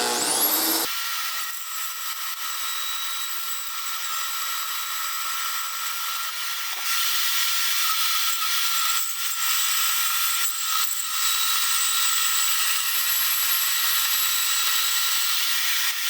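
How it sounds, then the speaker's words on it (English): A portable bandsaw cutting metal to length for welded floating corner shelves, a thin high-pitched grinding whine that starts abruptly after a short low rumble and runs steady and loud to the end. "I will bring this over to my portable bandsaw right now, cut this out"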